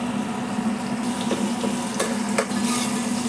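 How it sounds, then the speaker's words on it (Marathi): Tomatoes sautéing in a pan with cloves, cinnamon and bay leaf for a chana dal and mushroom dish; a close, steady sizzle with a low hum and a few brief stirring clicks, no talk. "टोमॅटो टाकले. ते छान परतून घ्यायचं."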